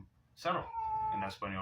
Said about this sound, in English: That's my cat Joey here live with me